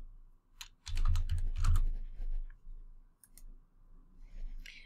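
Typing on a computer keyboard while entering a Java package name, a quick burst of close, crisp key clicks that thins into scattered taps, with a faint higher rustle near the end.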